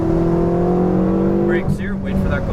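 Ferrari 488 GTB on a coned track course, engine holding a strong steady tone before the throttle is squeezed out of a corner, with a brief change in pitch and some faint tyre or wind noise near the end.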